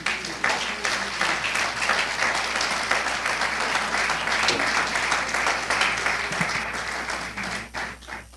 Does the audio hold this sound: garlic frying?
no